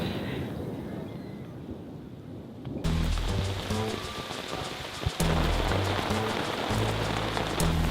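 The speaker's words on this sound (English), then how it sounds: "the rain's torrential and it looks like it's setting till the morning" Torrential rain falling on a lake: a dense hiss of drops that is softer at first, then turns heavier and louder after a few seconds, with occasional low thuds.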